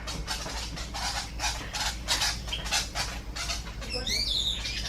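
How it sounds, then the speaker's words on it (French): Birds calling at dawn on an island in Halong Bay, Vietnam, with a dense, continuous chorus of chirps and squawks, close and fairly loud, with shrill whistling notes near the end over a low steady hum. "c'est des oiseaux"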